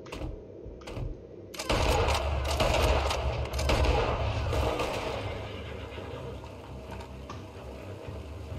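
Horse whinnying in Red Dead Redemption 2, a loud neigh over clattering hooves and rumbling motion, fading into a steadier background of movement.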